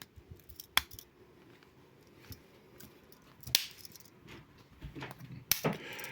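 A few sharp metallic snips and clicks from the scissors of a Victorinox Swiss pocket knife, spaced apart, with small handling rattles between them in an otherwise quiet space.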